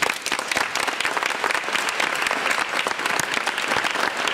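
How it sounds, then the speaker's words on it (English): Steady, enthusiastic applause from an audience, dense clapping filling the room without pause for several seconds. "So I'd like to give a really warm welcome to Marek Korczynski."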